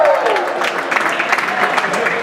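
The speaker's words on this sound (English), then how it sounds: "Give a nice round of applause from Nottingham, New Hampshire, the 37 Pistol, Pete Frazier." Crowd applause for a race driver introduction at a stock car race, a steady wash of clapping at moderate distance, with an announcer talking over it.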